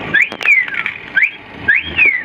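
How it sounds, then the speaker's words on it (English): A loud, close whistle sounds from a 1929 Ford Model A Roadster replica with a modern Ford engine, outdoors on a sunny day, as repeated rising and falling sweeping tones. "There's that whistle."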